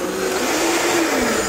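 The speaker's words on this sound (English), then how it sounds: "I'm going to take the barbecue sauce and I'm going to blend it here." A blender purees barbecue sauce thickened with cacao, running as a loud, steady motor whir with a slight shift in pitch partway through, filling the whole moment with no talking.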